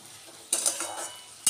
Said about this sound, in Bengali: মশলাটা দিয়ে একটু কষে নেবো।